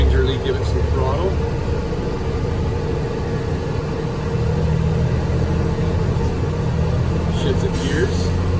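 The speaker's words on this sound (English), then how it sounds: "Gingerly give it some throttle." A car engine is gently given throttle with the back wheels spinning at about five miles an hour, during a driveline vibration check: a loud, steady low drone close by, with a voice faintly audible at moments.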